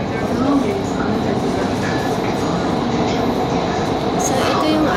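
A Doha metro train running, with a steady dense rumble of wheels and motor filling the whole clip at fairly high level, and a voice speaking over it.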